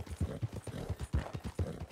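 Horse hooves galloping in Red Dead Redemption 2, a steady, rhythmic run of close, heavy clip-clop beats repeating throughout, with no other sound over them.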